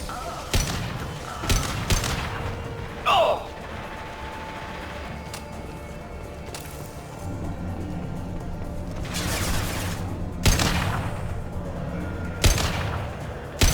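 Several sharp, heavy gunshots from high-impact rounds in Mass Effect 2 ring out in scattered bursts over a low rumbling battle backdrop, some loud and close, others more distant, with no talking.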